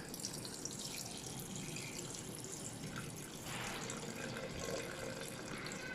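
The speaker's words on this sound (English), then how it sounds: "Pouring milk into the jug." Milk pours into a jug in a steady liquid stream, a continuous close splashing gurgle that shifts slightly in tone as the jug fills, with no speech.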